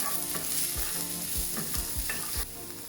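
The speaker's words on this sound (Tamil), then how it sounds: "கருவேப்பிலையையும் பச்சை மிளகாயையும் போடுவேன். கிளறி விட போகிறேன்." Curry leaves and green chillies crackle and sizzle in hot oil for Sri Lankan mutton rolls, with a steady frying hiss and repeated spoon scrapes and knocks against the pan as they are stirred.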